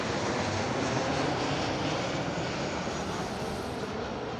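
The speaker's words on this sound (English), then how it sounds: "I want a quick chat with James as Jets 2 Holidays arrives into East Midlands." A Jet2 Holidays airliner arriving into East Midlands passes overhead during a rally stage, a loud, steady broadband engine roar holding for the whole stretch with no voices.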